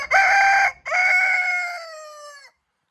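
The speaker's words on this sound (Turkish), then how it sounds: "Ayrıca horozun ötmesini bekliyorum." A rooster crows once up close, a loud drawn-out call with a short break, its tail trailing off into silence.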